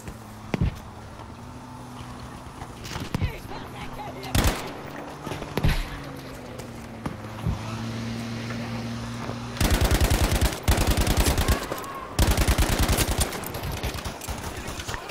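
Gunfire on the Marita map in a video game: scattered single shots early on, then two loud sustained bursts of rapid automatic fire close by in the second half, with no voices.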